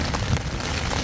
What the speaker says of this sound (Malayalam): പുറത്ത് ഫുള്ള് മഴയല്ലേ?